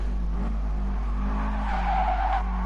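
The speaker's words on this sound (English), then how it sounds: "you can actually hear his tyres squealing there" Tyres squeal in a sustained skidding screech over a steady low engine drone, a race car in the video game Gran Turismo Sport.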